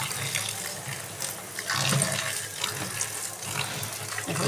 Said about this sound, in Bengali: এখন ধুয়ে নিচ্ছি।